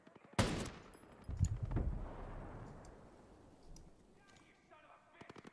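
Incoming gunfire aimed at the player in Ghost Recon Breakpoint: a sharp close shot, then a burst of rapid automatic fire with a lingering echoing tail and scattered faint shots afterward.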